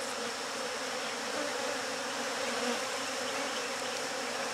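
Dense, steady buzzing of many honey bees close by at a hive, a continuous drone with no talking.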